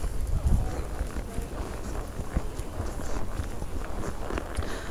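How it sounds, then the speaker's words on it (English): Hooves of a quarter horse walking with other horses on a ride, giving a soft, irregular clip-clop under rustling outdoor noise and faint voices. "Susie's on the only quarter horse, Gamble."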